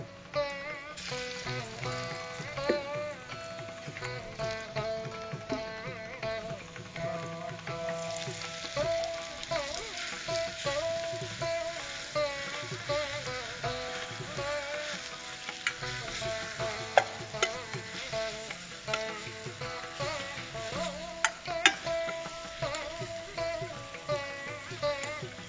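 Ground herb paste sizzles and fries in hot coconut oil while being stirred, a close, continuous crackling with irregular scraping strokes and no talk.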